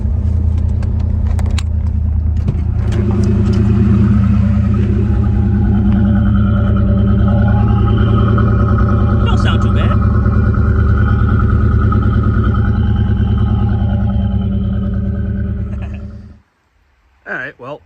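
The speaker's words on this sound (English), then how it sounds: "you want to hear the exhaust?" A Pontiac Trans Am sitting in neutral rumbles through its exhaust with a deep, steady idle and swelling revs, loud and close, before cutting off near the end.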